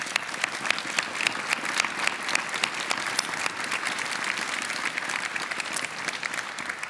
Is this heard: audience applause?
yes